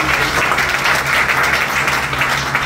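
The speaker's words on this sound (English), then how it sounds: "Can we give him a big round of applause?" A room full of people at a Riway business event claps steadily and loudly, a dense, even patter of hands with no voices over it.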